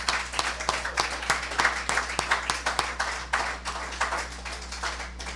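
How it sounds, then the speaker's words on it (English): A church congregation applauds graduates, steady rapid clapping from many hands filling the room, moderately loud and continuous throughout. "so let's give them a round of applause."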